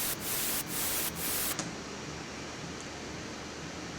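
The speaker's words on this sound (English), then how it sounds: "this little white noise that I made with 3x oscillator" White noise from a 3x Osc synth in a music track sounds as a bright, full hiss that pulses rhythmically for a moment and then settles into a steady wash of noise.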